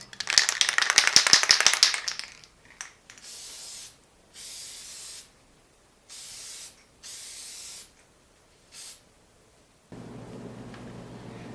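Aerosol release agent sprayed onto a Marlin 917 .17 HMR rifle receiver in a series of short, sharp hissing bursts of about a second each, separated by brief pauses, close and alone after an opening rattle.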